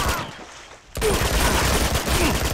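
Rapid gunfire in the Uncharted 2 video game, shooting at a lock. After a brief lull it returns as a dense, loud burst of shots that runs to the end of the clip.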